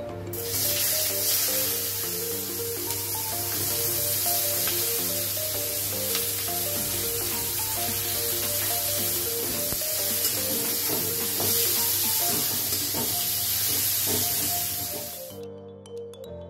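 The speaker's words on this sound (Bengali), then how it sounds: "এবার আমি পেঁয়াজ ভেজে নেবো" Onions fry in hot oil in a pan, giving a dense and steady sizzling hiss that runs unbroken for about fifteen seconds and then stops abruptly. Faint music plays underneath.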